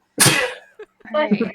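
A single sharp sneeze bursts out close by during a tabletop game session, followed by a brief pause and then someone speaking.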